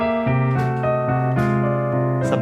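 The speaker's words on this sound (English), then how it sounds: "now the last thing I wanna teach you are some essential country fills" A short country piano fill: quick sliding grace notes lead into full, ringing chords over a sustained low bass note, played close and clear.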